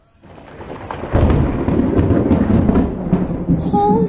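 A deep rumble of thunder follows a lightning strike, swelling within the first second and rolling on steadily and loud to the end, with no talking over it.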